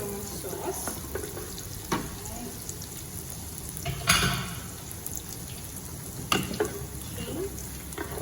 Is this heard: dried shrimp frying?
yes